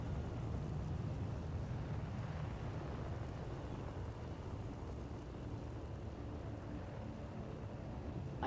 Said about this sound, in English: I fear the storm is getting worse